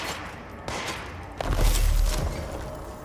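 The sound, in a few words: service weapon gunfire in the video game Control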